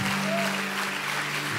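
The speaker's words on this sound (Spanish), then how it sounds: "Dale fuerte ese aplauso, dale fuerte, que suba toda la gloria" Congregation applause during a Sunday church service, a continuous wash of clapping from a crowd, steady in level and blended with a sustained musical tone from the worship band.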